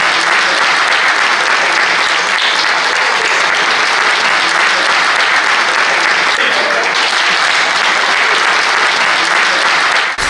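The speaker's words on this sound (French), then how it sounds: "Ovation nourrie et spontanée pour un discours bien écrit, structuré et bien administré." Parliament deputies giving a sustained ovation after a speech, loud continuous clapping from a large chamber audience that stays dense and even from start to finish.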